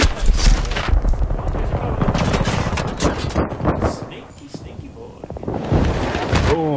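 016 gun fired in a multiplayer video game match on a canals map, heard as rapid, dense bursts of gunfire with other shooting in the mix, while a player talks over it.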